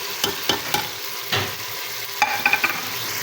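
Keema masala with salt, crushed chilies, turmeric, dry coriander, cumin and garam masala frying and being stirred in a handi, a steady close sizzle broken by several sharp spoon scrapes and clinks.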